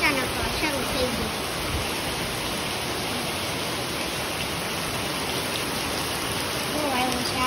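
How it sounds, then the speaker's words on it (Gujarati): Heavy rain pours steadily and close by, a dense unbroken hiss and patter that drowns out any other sound. "પણ વરસાદ બહુ આવે છે એટલે ઘરમાં નાખવી પડશે"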